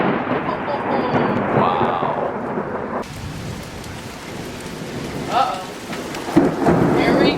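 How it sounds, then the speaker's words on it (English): A thunderstorm with rain sweeping in over Oro Valley near the Canada del Oro Wash, a steady hiss of heavy rain with rumbling thunder swells, and a voice briefly exclaiming over it. "The rain has arrived."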